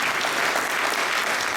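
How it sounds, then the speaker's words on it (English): A school awards gathering gives a round of applause for the boys golf team advancing to sectionals, with loud, dense clapping from a crowd filling the whole moment at an even, sustained level. "so we give them a round of applause"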